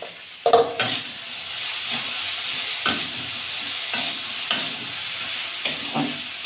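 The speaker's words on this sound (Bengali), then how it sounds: "সবজিটা ভাজা ভাজা করে দিয়েছি, এবারে সরষে বাটাটা দিয়ে দেবো।" Vegetables for a radish, potato and shrimp curry fry in a pan, giving a steady close sizzle broken by regular scraping stirs at intervals of about a second.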